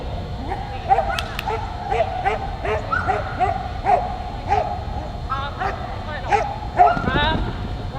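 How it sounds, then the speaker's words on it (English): A border collie barks and yips repeatedly during an agility competition run at the UKI US Open, amid a noisy crowded arena with an announcer talking over the action. "taking the stage now with her very talented border collie"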